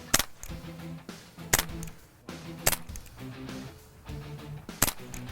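Airgun shots fired in a shooting competition, four sharp cracks spaced roughly a second or two apart, loud and close against a low ambient hum.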